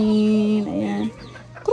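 Chicken, a hen kept by a family at home, making short clucking, squawking calls, starting with a sustained tonal cry and ending in a brief sharp burst, close by with some background noise.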